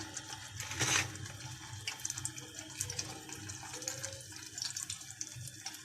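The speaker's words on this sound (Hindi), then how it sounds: "इसमें टिक्की शामिल कर दें ताकि फ्राई हो जाए।" Burger tikki patties dipped in egg and frying in hot ghee in a home kitchen, a steady hiss and sizzle with brief louder spatters near the start and fainter crackles afterward, with no voices.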